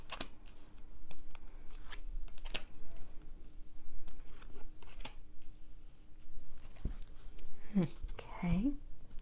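Tarot cards are shuffled by hand in sharp, papery bursts of riffling and snapping scattered across the stretch, close and fairly quiet, with a voice speaking briefly near the end.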